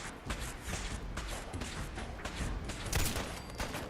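A Fallout 4 firefight with Gunners produces repeated rapid gunshots and thuds at a low, steady level in dense overlapping bursts, one sharper bang standing out near the end.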